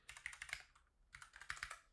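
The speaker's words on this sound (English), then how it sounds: "just some typing" Quiet, close typing on a computer keyboard in two short bursts of rapid key clicks separated by a brief pause.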